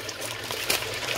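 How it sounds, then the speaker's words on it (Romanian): Tap water trickling and pouring into a bucket for bee syrup, a continuous close stream with a brief louder splash near the middle. "Mai punem niște apă"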